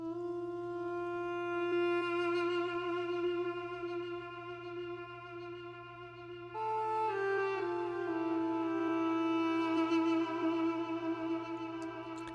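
A duduk from the original stem plays a sustained, reedy melody, with long held notes over a steady low drone, soft and solo with no voices.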